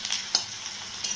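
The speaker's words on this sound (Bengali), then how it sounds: "একটু পেঁয়াজটা ভাজা হয়ে যাবে," Onion frying in oil in a pan, a continuous close sizzle with a few light scrapes and taps, and no voices.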